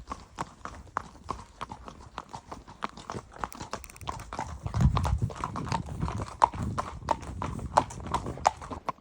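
Horses move about in a small corral beside a shed in Amalia, New Mexico, their hooves clip-clopping in uneven, close steps with occasional snorts and rustles.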